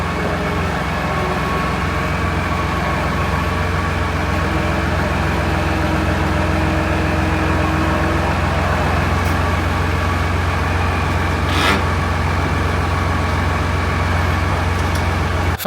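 Heavy farm tractor engine, a 6270, idling steadily near a new grain shed, a constant low droning rumble that holds at the same loud level throughout, with a brief sharper burst partway through.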